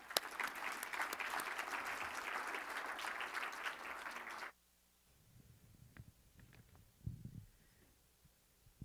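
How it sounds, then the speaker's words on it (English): Warm audience applause for panelists at a cancer care event, steady dense clapping for about four and a half seconds that stops abruptly, leaving faint room noise and small shuffles. "Let's give them a warm round of applause"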